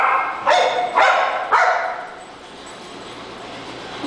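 Several dogs at a doggy daycare bark from behind a door, three loud barks roughly half a second apart, then quieter background noise with no further barking.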